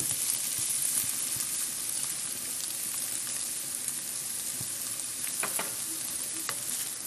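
Cream and mushrooms sizzling in a frying pan for tartiflette, a steady close hiss of frying with occasional soft scrapes and taps of a utensil stirring through.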